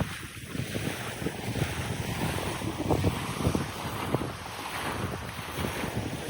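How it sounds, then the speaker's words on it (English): Wind gusts across the microphone over a steady wash of choppy water lapping and splashing on Lake Coeur d'Alene, with no voices. "we've got a little bit of chop coming off the water"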